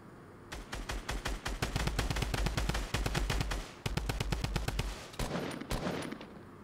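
Rapid automatic gunfire in a Fortnite Battle Royale match, bursts of sharp shots in quick succession, loud and close, pausing briefly before more firing, with no talking.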